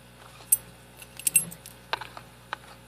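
A pair of identical lock keys jingle in a few brief metallic clinks and rattles, close and quiet, with no one talking.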